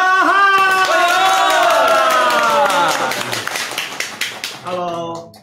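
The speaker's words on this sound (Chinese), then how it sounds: "我们就要用热烈的掌声请出我们今天的明星大来宾" A warm round of clapping greets star guest Zhang Zhehan arriving in a livestream studio; a loud voice carries over the start, then scattered hand claps ring out clearly before fading.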